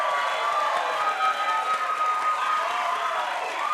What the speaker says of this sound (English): Round of applause, sound effect